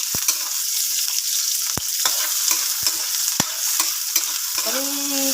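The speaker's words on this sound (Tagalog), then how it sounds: "Gisa ko na guys ang sabay-sabay itong ating sibuyas, bawang at luya" Onion, garlic and ginger sautéing together in a hot pan for watermelon-rind adobo, a steady close sizzle with sharp stirring clinks and scrapes scattered throughout.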